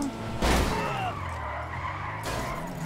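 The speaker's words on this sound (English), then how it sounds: "Whoa, did you see that car?" A car in a video game skids with a sharp tire screech and a thump, then engine noise carries on steadily under a brief voice.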